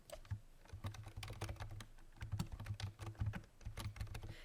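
Rapid typing on a computer keyboard, a close, quiet run of irregular key clicks in short bursts with small pauses, no voices.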